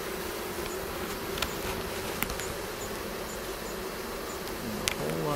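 Honey bees buzz steadily from a colony nesting inside a brick house wall, a dense continuous hum with a few faint clicks and taps over it.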